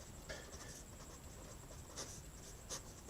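A pen scratching across paper while a maths solution is written out, faint and close, with short strokes repeating at an irregular pace and no voices.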